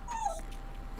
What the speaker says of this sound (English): I say that, the dog whines.